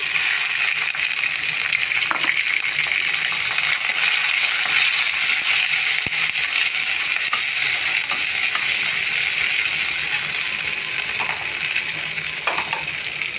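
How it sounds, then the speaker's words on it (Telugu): Onions and curry leaves roasting in a pan make a dense, steady sizzle and crackle, loud and close, with occasional light stirring and no one talking. "దోరగా వేగించాలి అలాగే ఉల్లిపాయలు కూడా వేసుకోవాలండి అలాగే కరివేపాకు కూడా"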